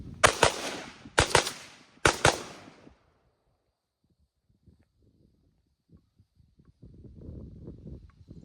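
AR-15 rifle shots ring out during live fire training in three sharp, loud cracks in quick pairs and singles, each with a short echo, followed by quiet rustling.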